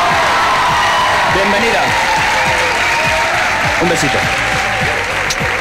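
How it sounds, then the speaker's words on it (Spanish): A Spanish television studio audience applauds and cheers loudly, with whoops over steady clapping that fills the whole stretch while a presenter talks over it. "¡Un aplauso para ella!"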